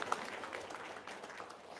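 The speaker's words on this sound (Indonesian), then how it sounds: "Tepuk tangan dong untuk Satem" An audience claps and applauds for a guest at an Indonesian talk show or gathering, a dense, even patter of hands held steady for under two seconds at moderate distance.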